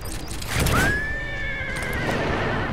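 A horse in Metal Gear Solid V lets out a loud, close neigh rising then wavering for about two seconds, with faint hoof clatter beneath.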